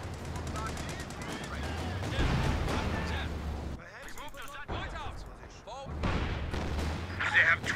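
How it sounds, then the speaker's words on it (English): Artillery barrage and gunfire in the Company of Heroes 2 strategy game: dense, rolling volleys of booming shots and bursts, briefly thinning midway, with in-game voices calling out over the battle. "artillery barrage has begun"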